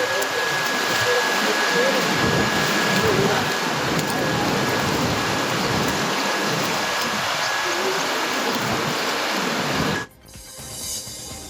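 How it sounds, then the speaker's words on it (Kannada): Heavy, unbroken rain pours down in the Western Ghats, a dense, loud, steady roar lasting about ten seconds before cutting off abruptly. "ಪಶ್ಚಿಮ ಘಟ್ಟ ಪ್ರದೇಶದಲ್ಲಿ ಬಿಟ್ಟು ಬಿಡದೆ ಮಳೆ ಸುರಿತಾ ಇದೆ"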